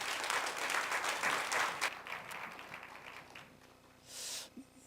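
A church congregation claps together on New Year's Eve, a dense, sustained round of applause that gradually thins and fades, with a brief burst of noise near the end.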